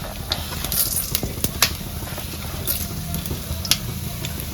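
Cumin and coriander seeds fry in a pan with a soft, steady sizzle. A few sharp taps and scrapes of stirring cut in, with no talk.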